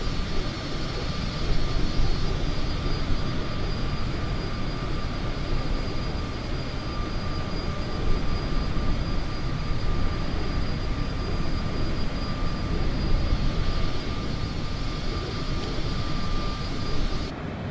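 Steady, loud airplane engine drone heard from inside the cabin during a flight from Singapore to Jakarta, an unbroken roar with a faint high whine throughout.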